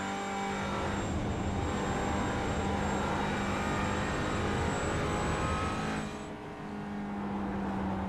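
GT3 race cars in iRacing at Bathurst Mount Panorama, a sustained loud engine drone of close traffic that swells as cars pass and briefly dips near the end, with no voices.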